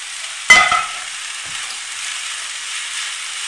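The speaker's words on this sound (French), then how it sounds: "je vais étendre le feu et je vais la transvaser dans la poêle de légumes" Minced meat hitting a hot pan of vegetables for a kefta dish, a sudden splash and clatter followed by a steady, even sizzle that carries on alone.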